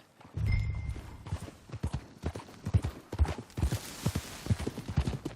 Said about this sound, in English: Get on your horse, John. Follow me. Let's ride.